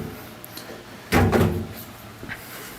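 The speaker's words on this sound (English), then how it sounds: "So now that drawer's locked, and all the rest of them are locked." A drawer on a welding table slides shut and locks with a single sharp metallic thud, followed by a faint click, in an otherwise quiet workshop.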